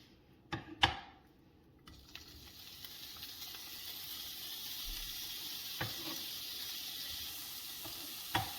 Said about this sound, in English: we are going to put our bacon in now